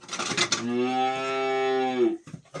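A single long, deep moo from a cow, loud and close, with brief rustling farm noise before and after.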